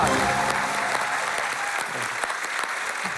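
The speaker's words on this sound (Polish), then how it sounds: "Wielkie brawa!" A TV quiz-show studio audience applauds loudly and steadily, a dense close wash of clapping filling the whole stretch without a break.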